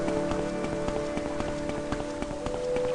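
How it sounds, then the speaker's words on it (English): Steady rain falls in the Morrowind game world, a dense even patter of drops with a constant faint tonal hum underneath, with no voices. "I don't like rain in video games."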